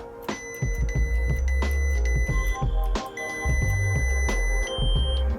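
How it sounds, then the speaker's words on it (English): A series of short electronic beeps and chirps from a Star Wars Temple Guard lightsaber adjusting volume, some sustained tones, sounding in an irregular rhythm with soft clicks between them; a different beep marks the end of the range. "when you hear the different beep on the bottom or the top, that means you're at the end"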